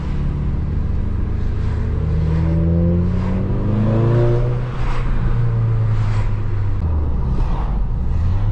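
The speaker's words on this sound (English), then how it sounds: "And the turbo sounds so good." A Volkswagen MK8 Golf 2.0 TSI turbo accelerates hard, its engine rising steadily in pitch with a brief dip at a gear change before climbing again, loud and continuous from inside the car.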